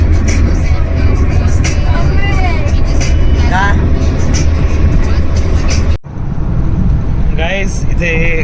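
Car on the road to Sinnar, Maharashtra, heard from inside the cabin: a steady engine and road rumble runs throughout with a brief dip near the end, while people chat over it.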